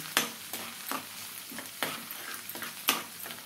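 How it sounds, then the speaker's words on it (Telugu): Onions, green chillies and tomatoes frying in a hot tempering, with a soft sizzle under repeated quick scrapes and taps of a spatula stirring the pan at close range. "ఉల్లిగడ్డలు, పచ్చిమిరపకాయలు, టమాటాలు తాలింపు బాగా ఎర్రగా వేగినాక వేసుకోవాలి."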